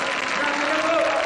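A studio audience applauds loudly and steadily for a group of boys during a live Saturday television variety show featuring a DJ act, with a dense wash of crowd noise filling the whole moment.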